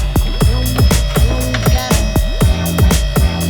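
QuickJack car lift being pumped up in a garage during RX7 suspension work, rapid repeated mechanical clacks and whirring pulses in an uneven rhythm, close and loud.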